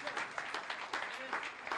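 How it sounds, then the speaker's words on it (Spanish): Church congregation clapping in rhythmic bursts, several quick pulses of hands repeating at a steady beat, moderately faint with voices mixed in. "denle un aplauso al Rey bendito."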